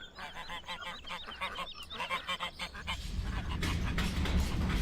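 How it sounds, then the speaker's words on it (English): Geese in a countryside farming video game honk in a rapid, overlapping series that stays clear and fairly close, then sink under a swelling rush of broad noise in the final couple of seconds. "There's geese."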